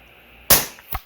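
A single sharp rifle shot cracks out at a target range, loud and close, followed by a fainter second report or echo just after.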